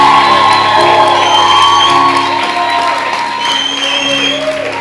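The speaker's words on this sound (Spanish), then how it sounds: "Un aplauso para el pastor de jóvenes." A church congregation at a retreat bursts into loud close applause with whoops and shouts for the youth pastor, dense and continuous, with sustained instrumental music droning underneath.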